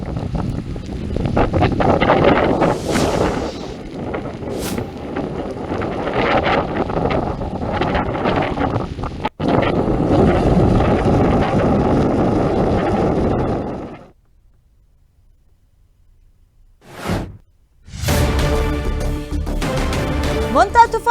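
Strong gusts of wind and rain from Cyclone Montha in Guntur district roar and buffet the microphone loudly, drop almost to silence for a few seconds, then surge back.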